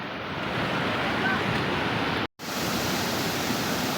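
Continuous broad hiss of rain falling over a flooded village lake, steady and enveloping, with a brief dropout partway through.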